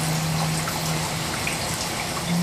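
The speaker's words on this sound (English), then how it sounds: "it's a mist that comes on inside the growing chamber, and it comes on every 3 minutes for 10 seconds" An aeroponic mist sprayer runs inside a plant growing chamber on a backyard farm, giving a steady, dense hiss of spraying water with a faint low hum underneath, unbroken throughout.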